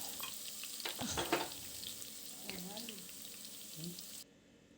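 Chillies and crushed garlic frying in hot oil with curry leaves for a wedding-style sambar, a crackling sizzle with spattering pops and a few clinks, under a faint voice.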